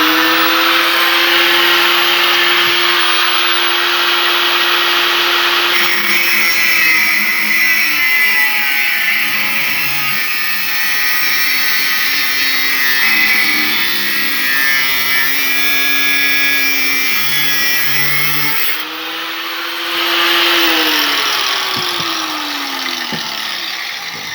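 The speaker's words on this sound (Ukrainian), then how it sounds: "на допомогу нам приходить, звісно, болгарочка. Так, включаємо." Angle grinder shapes a steel folding knife blade, a steady loud whine with shifting pitch as the disc presses and releases against the metal, then spinning down briefly before starting again.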